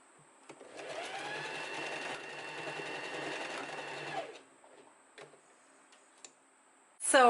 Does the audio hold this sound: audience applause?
no